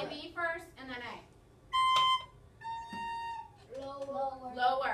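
Recorder sounds two sustained notes, a B followed by a slightly lower A, each held about a second between stretches of a teacher's talking.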